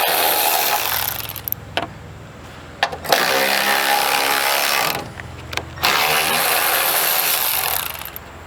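A power tool whirs and rattles in loud bursts while removing 13mm strut top nuts on a 2005-2014 Ford Mustang S197, with short pauses and clicks between runs.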